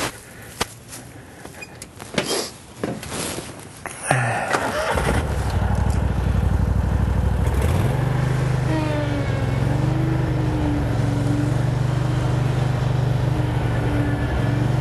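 A zero turn mower with front brakes runs across wet, slick grass, its engine loud and steady with a tonal drone that shifts as it speeds up and slows. Scattered knocks and clatter come earlier, before the engine sound swells up.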